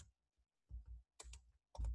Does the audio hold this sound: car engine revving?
no